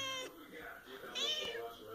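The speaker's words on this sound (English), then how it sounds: "You're a weird cat." A cat meows close up, with one drawn-out meow followed by a shorter rising cry, fairly quiet.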